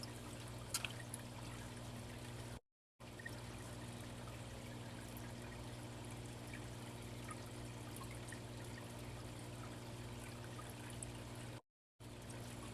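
Water drains from a flooded room in a low, steady trickle that runs continuously and faintly, broken by two brief silent gaps.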